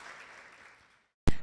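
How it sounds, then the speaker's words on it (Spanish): A church congregation claps for God at the close of a sermon, the applause thinning and fading into silence before a short loud burst of claps returns. "regáleme una fuerte ofrenda de palmas a nuestro Padre Celestial"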